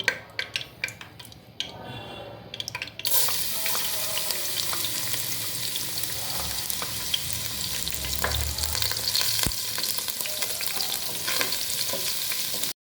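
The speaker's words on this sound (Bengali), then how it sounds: "একটা প্যানে আমি তেল গরম করে নিয়েছি, এখন দিয়ে দেব রসুন কুচি" Chopped garlic drops into a pan of hot oil while cooking vegetable fried rice. After a few quiet utensil clinks, a loud, continuous sizzle and crackle takes over and runs steadily, with occasional stirring scrapes.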